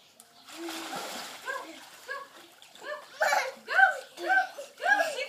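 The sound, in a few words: child swimming and splashing in water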